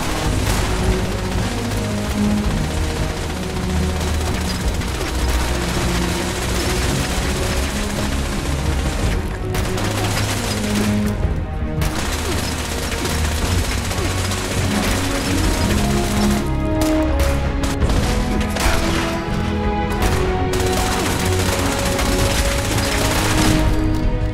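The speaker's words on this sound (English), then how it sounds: "Wow, that is a lot of turret fire." In the video game Fallout 76, turret gunfire keeps up a dense, loud barrage of rapid automatic shots and booms that goes on continuously, layered with heavy game effects and no talking.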